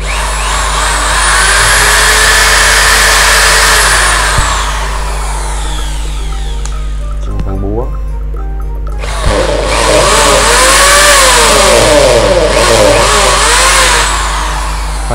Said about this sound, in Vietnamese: test chức năng đầu tiên là chức năng khoan thường